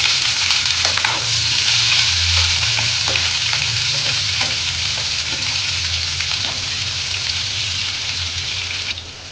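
Chopped large onion and dried red chillies fry in hot oil in a pan for an aubergine masala fry, giving a loud, steady sizzle with occasional stirring scrapes throughout, no voices.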